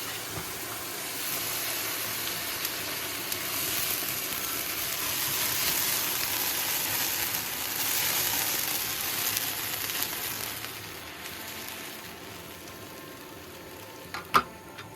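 Ribeye steak and wine sauce sizzle and fry in a pan on a cold mountain campsite, a steady loud hiss running throughout and easing slightly near the end, with a brief sharp clink just before it stops.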